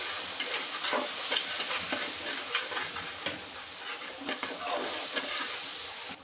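Spices for potato dal stirred in a hot frying pan, with a steady close sizzle and scraping stir strokes repeating throughout, no voices.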